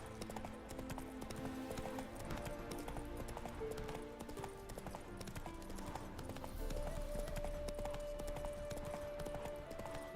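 Roach the horse gallops in The Witcher 3, a steady clip-clop of hooves running continuously under game music, with a brief whinny-like tone near the end.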